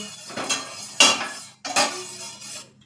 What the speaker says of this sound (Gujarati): અને હવે આપણે હલાવી લેશું